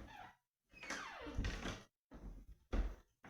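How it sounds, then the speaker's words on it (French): A cat scratching and thumping at a door, bursts of scraping and knocking broken by short silences, close and fairly loud, with a few bumps that sound like the door rattling. "il y a le chat qui attaque la porte"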